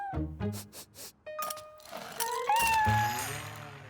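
A cartoon cat in the French-language Caillou series meows several times: short, close calls rising into a longer, louder drawn-out meow, with a faint thunk in between.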